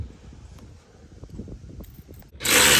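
A power tool tightens the bolts of a running board on a 2019-2024 Chevrolet Silverado or GMC Sierra: rattling clicks and knocks for a couple of seconds, then a sudden loud burst of whirring near the end.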